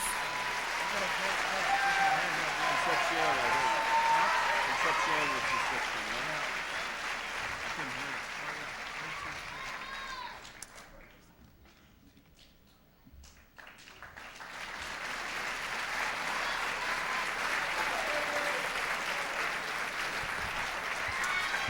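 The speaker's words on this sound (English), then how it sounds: "They truly deserve another round of applause" Sustained audience applause for the top ten semifinalists at the Miss California USA 1997 pageant, a large crowd clapping steadily before fading to near silence, then swelling again to a full ovation.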